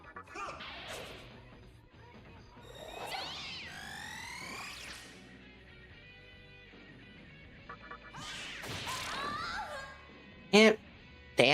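Cat girl demon meows ring out in Shin Megami Tensei III, several rising, whiny calls spread across the stretch, mixed with game effects and a couple of sharp crashes near the end.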